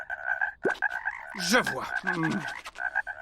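Cartoon frogs croaking in a steady repeated rhythm at a dissection lesson, with a voice speaking over the middle of it.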